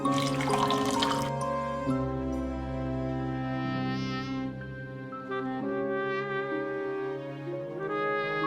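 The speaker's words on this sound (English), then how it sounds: "I'm going to pour 1 cup of hot almond milk" Hot almond milk pouring over a hot cocoa bomb in a cup, a steady close liquid pour with a bubbling, rising-pitch fill that continues throughout, with soft music underneath and no talk.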